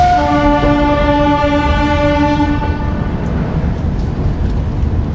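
The 12014 Amritsar–New Delhi Shatabdi Express runs on after leaving Ambala Cantt, heard from inside the Anubhuti coach: a loud, steady rolling rumble with a high tonal whine that fades after about three seconds. No one speaks.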